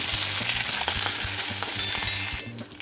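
Mustard seeds, urad dal, chana dal, curry leaves, green chillies and cashews frying in hot oil, with a loud, close, continuous sizzle and a rhythmic scrape of stirring that stops abruptly near the end.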